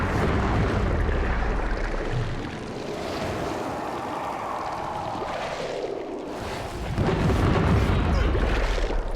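Heavy booming blasts from rockets in the video game Biomutant, a loud rumbling roar that swells, dips in the middle and surges again, with dense low-end energy throughout.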